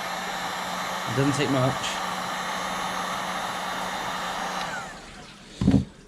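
A heat gun blows hot air steadily onto interior trim in a classic Mini to soften it, a loud continuous rush under a brief spoken remark, easing off near the end before a short final burst.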